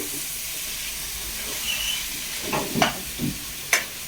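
Onions, tomatoes and cinnamon sauté in a pan for beef curry, giving a bright continuous sizzle and hiss with several nearby stirring scrapes and clacks toward the end.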